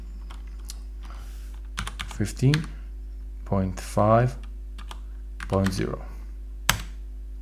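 Typing a command on a computer keyboard: quick bursts of clicky keystrokes between spoken phrases, close and fairly quiet, ending with one sharper key press.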